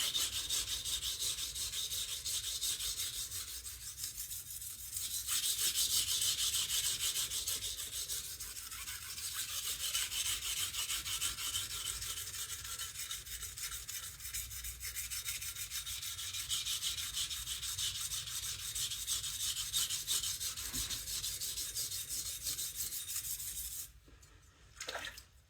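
A blade bevel is ground on a coarse sharpening stone in long, continuous abrasive strokes, a close, gritty rasp that keeps a steady back-and-forth rhythm before easing off at the end.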